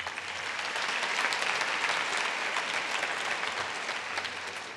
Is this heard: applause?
yes